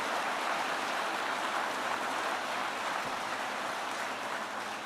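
A crowd at a political event with the Vice President applauds the Secretary of Labor, a dense, steady wash of clapping that stays loud and even from start to finish.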